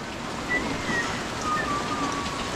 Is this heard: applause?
no